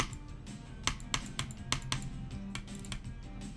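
Rapid clicking of a computer mouse during a racing game, a series of sharp, close clicks in uneven bursts over a low background hum.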